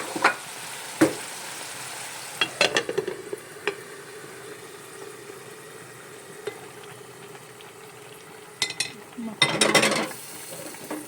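Chicken livers fry and stew in their own juices in a pan while onions are added. A soft sizzle runs under sharp clinks and scrapes of a spoon against the pan.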